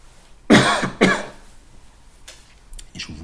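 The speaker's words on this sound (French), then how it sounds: "je vous prie de m'excuser pour cette toux intempestive" A man coughs twice in quick succession at close range during a lecture-style tutorial, each cough sharp and loud, followed by quieter breathing and faint rustling.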